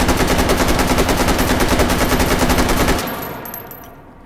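An AK-101 rifle fires a long rapid burst of automatic gunfire in the VR game Hot Dogs, Horseshoes and Hand Grenades, loud and evenly spaced shots for about three seconds, then a fading echo.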